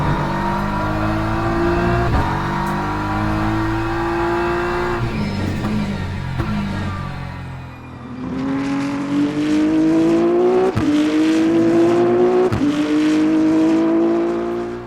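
A GT3 race car engine in the Le Mans Ultimate racing game revs hard through the gears, loud and close, with sharp upshift breaks and rising whines after a brief lift and downshift.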